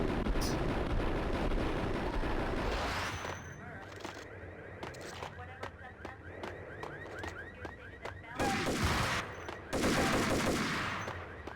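Gunfire and grenade blasts in the Max Payne video game, a loud, heavy barrage of shots and explosions that suddenly gives way to rapid, rhythmic sharp shots, then returns to roaring blasts.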